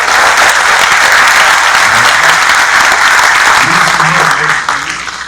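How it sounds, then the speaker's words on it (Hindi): Loud, sustained applause from a large audience fills the whole stretch, dense steady clapping with faint voices beneath and a slight fade at the end. "जोरदार ताली वाली बजा के"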